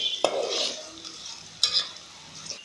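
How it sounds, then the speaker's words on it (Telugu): Onions and green chillies stir-fried in hot oil with curry leaves and tempering spices, a steady close sizzle broken by two sharp scrapes of a stirring spoon against the pan. "వేసుకొని బాగా గోలియాలి"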